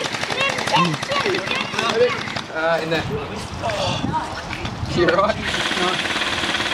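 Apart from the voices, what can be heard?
gel blasters firing during a gelsoft milsim game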